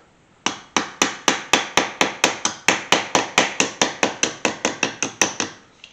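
Rapid, steady light hammer taps on the soft sheet metal body of a 1981 Chevy C10 squarebody pickup, a run of about twenty sharp ringing blows at an even pace, close and alone without speech.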